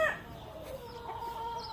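A gamefowl rooster of the Tornado Hatch line, kept on a breeding farm in the Philippines, gives a short, faint crowing call that trails off into quiet clucking, heard alone without talk.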